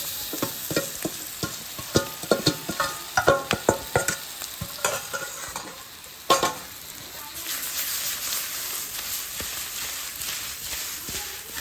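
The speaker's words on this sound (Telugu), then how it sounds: "ఇది కూడా ఒకసారి మిక్స్ చేసుకొని మాడిపోక ముందుకే వేసుకున్నాం చేప ముక్కలు" Pieces of fish frying in a pan, stirred with a run of sharp scraping clatters over a steady close sizzle that swells louder toward the end.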